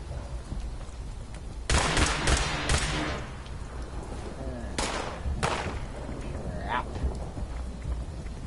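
Gunfire in Fallout 76 with a pipe pistol, a few sharp bursts that ring out loud and close over a steady rain-like background hiss.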